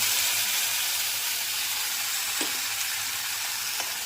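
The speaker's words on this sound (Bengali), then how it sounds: "চলো পেস্ট করা মশলাটা দিয়ে দিলাম" Steady loud sizzling and hissing of onion, ginger, garlic and chili spice paste frying in hot oil with onions, with a couple of faint stirring scrapes, nearby and continuous.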